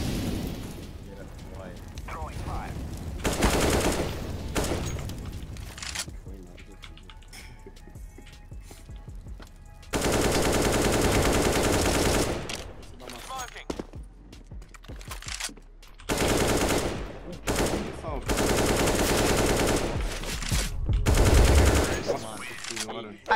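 Rapid bursts of M4 rifle spray fire in a tactical shooter match, loud and close, arriving in several dense volleys separated by quieter gaps with game ambience.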